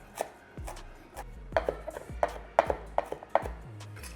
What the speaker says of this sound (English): It's about 4 or 5 sprigs of rosemary. Get a nice little chop on them.